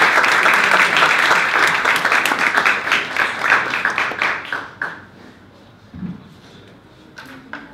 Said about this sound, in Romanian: Să aplaudăm,